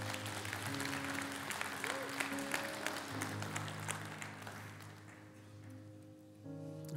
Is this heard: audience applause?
yes